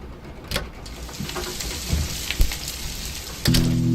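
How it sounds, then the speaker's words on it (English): Rain falling on a window in the video game Kathy Rain, a steady soft patter with a few sharper drop taps and a low tonal hum entering near the end. "sound of rain falling on a window"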